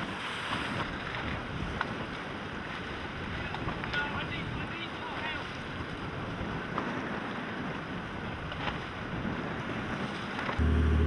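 Dragon class sailing yachts racing on open water, with steady wind buffeting and rushing water and wave wash throughout, continuous and moderately loud.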